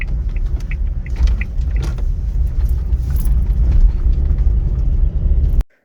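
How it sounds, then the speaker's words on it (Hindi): A car rumbles along a village road, a continuous low engine and tyre roar that stays loud and close for several seconds before cutting off abruptly, with no talk. "अब एक गाड़ी आ रही है पीछे, एक गाड़ी आ रही है आगे"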